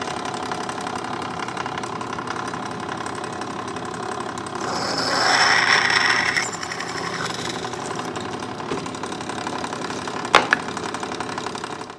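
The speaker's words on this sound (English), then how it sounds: "To drill this hole out for threading a 1/4-20 thread, we're using a 13/64 inch bit." A drill press bores a hole with a 13/64 inch bit to prepare for tapping a 1/4-20 thread. A steady motor hum runs throughout and grows louder and harsher during a brief cutting stretch midway.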